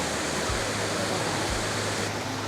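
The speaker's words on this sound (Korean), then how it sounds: "두 번째로 나온 폭포입니다." Waterfall in Luang Prabang, Laos, with cold water pouring into a pool: a steady, broadband roar of rushing water that stays even and continuous throughout, close and full.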